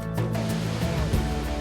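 The Jiktang waterfall on the Hantan River, a wide, short drop over vertically cut basalt, gives a steady rushing roar with a low rumble under music, heard from a moderate distance.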